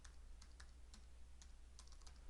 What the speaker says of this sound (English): we'll type in my title, hit the tab key